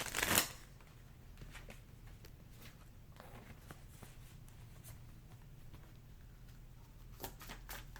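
Tarot cards from a Path of Shadows deck riffle sharply at the start, then soft ticks, slides and rustles follow as cards are handled and drawn; close and quiet, with no talking.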